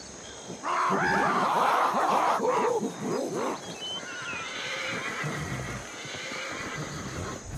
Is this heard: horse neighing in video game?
yes